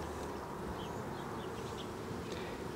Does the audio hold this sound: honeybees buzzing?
yes